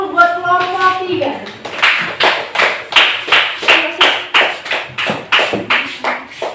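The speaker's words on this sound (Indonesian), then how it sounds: "Tepuk tangan dulu buat kelompok 3." An Indonesian school class claps for a student group, striking a loud, close, rhythmic pattern of evenly spaced claps. It begins with a brief sung or chanted voice, and children's voices mix in throughout.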